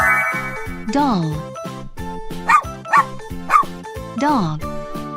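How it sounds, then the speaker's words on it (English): A dog gives a few short barks and yips, one longer bark near the start and a quick run of sharp ones later, over bouncy children's music with a light jingle. "Dog."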